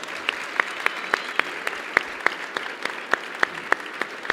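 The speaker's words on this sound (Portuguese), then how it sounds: "Mais uma vez, a salva de palmas." Audience applause at a talk event, a steady patter of evenly spaced claps that is fairly faint and sparse, like a small group clapping together.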